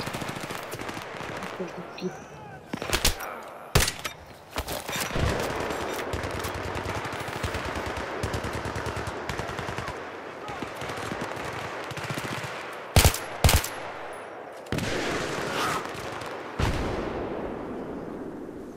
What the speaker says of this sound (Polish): Jakiś głupek tu sadzi z RPG.